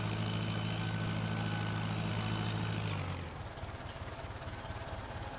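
A steady, droning tractor engine in Farming Simulator 19 rumbles at a constant pitch while pulling, then abruptly drops and cuts to a rougher, lower idle partway through.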